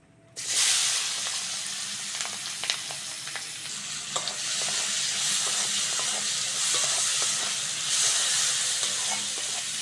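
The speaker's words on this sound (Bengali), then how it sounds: "মাছ ভাজার তেলেই পেঁয়াজ আর কাঁচা লঙ্কাটা দিয়ে দেবো" Onion and green chili frying in leftover fish-frying oil in a pan for a Bengali chanda fish curry, a loud steady sizzle with crackles and scattered pops throughout, no talking.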